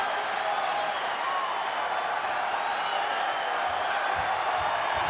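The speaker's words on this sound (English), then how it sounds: "This crowd making some noise, getting behind the sensational true freshman Angelo Ferrari." Big Ten wrestling crowd roaring and cheering for true freshman Angelo Ferrari, a loud, dense wash of arena noise that holds steady for the whole stretch without letup.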